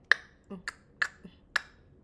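Crisp finger snaps, or claps, close to the mic in a quiet room: four sharp, evenly spaced cracks with softer knocks between them, no voices.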